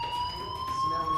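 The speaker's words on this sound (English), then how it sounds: "do you hear that fire alarm?" A fire alarm rings in a school corridor in the Life is Strange video game, a loud, steady electronic tone held without a break.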